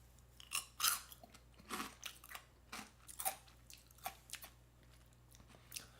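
Kimchi-flavored senbei rice crackers are chewed close to the mic, a series of crisp crunching bites at an irregular rhythm, fairly quiet with nothing else heard.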